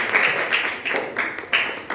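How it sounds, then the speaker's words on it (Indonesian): A small classroom group claps for a presenting team, a short burst of scattered, uneven hand claps with no talking. "Beri tepuk tangan untuk kelompok 6"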